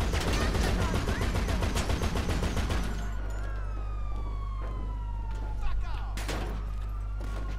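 Police sirens wail with falling tones in GTA 5 Online, rising after a dense stretch of rapid gunfire, over a steady low drone of the half-track's engine.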